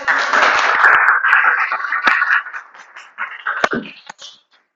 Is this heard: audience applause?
yes